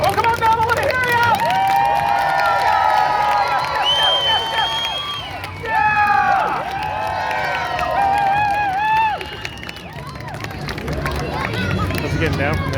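A street-performance crowd in downtown Belleville cheers and whoops loudly at dusk, a sustained mass of voices with shouts and scattered clapping, surging then easing off.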